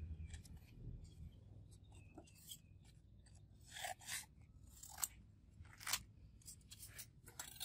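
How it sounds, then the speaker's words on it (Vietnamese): A knife blade being rubbed with fine 320-grit sandpaper, a quiet series of irregular dry scratching and scraping strokes, close and faint, with a low room rumble beneath. "mình dùng cái giấy nhám 320 được rồi, tức là giấy nhám mặt mịn á"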